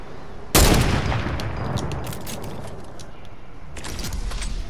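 In a boat sniper match in a video game, a sudden loud burst of gunfire erupts and trails into rattling, repeated shots and mechanical clatter, with another volley near the end.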